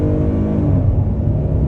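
A 2023 Hyundai Palisade Calligraphy AWD with a naturally aspirated engine accelerates hard after a U-turn, heard from inside the cabin as a loud, steady rising engine drone.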